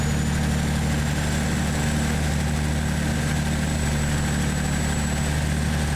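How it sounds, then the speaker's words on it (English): A Freightliner FLA truck engine idles in American Truck Simulator, a steady, loud, low rumbling drone with an even hum throughout and no speech. "I don't like this engine as much as I like the 12-liter and the 3406"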